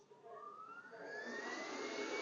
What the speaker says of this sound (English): We click start, the vacuum is working.